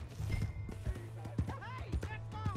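Horse hooves clip-clop in the video game Red Dead Redemption 2, a quick uneven run of hoofbeats mixed with voices.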